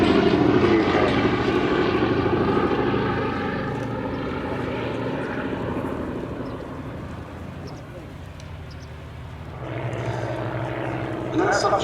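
Boeing B-17G Flying Fortress 'Sally B' passes overhead at an airshow, its piston propeller engines giving a loud, throbbing drone that swells, fades somewhat, then rises again, with a voice talking over it.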